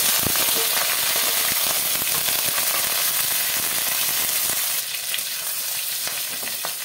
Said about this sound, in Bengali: তেলটা গরম হয়ে গেছে, মাছটা ভেজে নেব